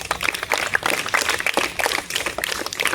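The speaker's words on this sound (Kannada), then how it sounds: "ಆ ಮಕ್ಕಳಿಗೆ ಒಂದು ದೊಡ್ಡ ಚಪ್ಪಾಳೆ ಬರಲಿ" An audience claps for a group of children at a gathering, a dense, steady patter of many hands sustained throughout, fairly close and without talk over it.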